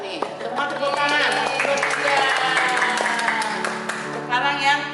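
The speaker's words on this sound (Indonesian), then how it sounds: "Semua tepuk tangan." Children at a preschool church service clapping hands together, a steady stretch of applause mixed with lively voices and singing-like chatter from an adult and kids throughout.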